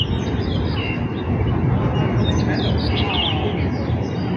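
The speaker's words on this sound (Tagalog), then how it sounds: "ang daming ibon, humuhuni." Many birds chirp and tweet together at Ocean Park in the evening, a dense, steady chorus of overlapping high calls over a constant rumbling background.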